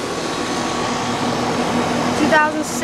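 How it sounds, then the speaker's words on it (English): A 2006 American Standard Ameristar 5-ton R22 air conditioner with an Alliance scroll compressor runs as a steady, close, broadband hum, with a faint tone and a brief warbling sound near the end. "It's a 5-ton. Got, as you can tell by the sound, an Alliance scroll compressor."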